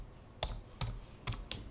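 Four quick, faint keystrokes on a computer keyboard, irregular clicks close by in an otherwise quiet room.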